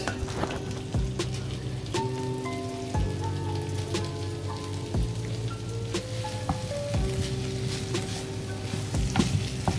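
Boiled rice frying in a pan for Nigerian fried rice gives a steady, dense sizzle with crackling bursts throughout, accompanied by some tonal hum in the background and no talking.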